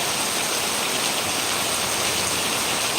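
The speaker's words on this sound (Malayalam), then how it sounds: "അതിനുശേഷം വീണ്ടും പെയ്തുകൊണ്ടിരിക്കുകയാണ്" Heavy monsoon downpour during a thunderstorm pours down in a dense, unbroken roar of rain, loud and steady throughout with no voices.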